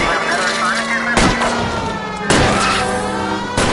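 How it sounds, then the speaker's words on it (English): Gunshots fired at car tires during a chase in the video game L.A. Noire, three loud sharp shots spaced about a second apart over steady engine and road noise. "I'm trying to shoot out his tires."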